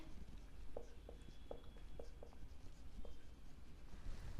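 A pen writes particulars on paper for a commerce accounting exercise: faint, close scratching strokes with short tapping ticks against a steady background hiss.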